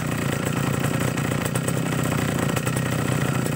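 A grass cutter's small engine runs steadily with a buzzing, rough idle, loud and close, holding an even rhythm with no break.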